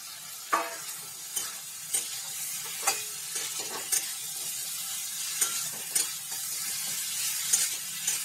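Fried elephant foot yam sizzles in a pan with tomato and spices while being stirred, the spoon giving regular scraping strokes about once a second over a steady, close frying hiss.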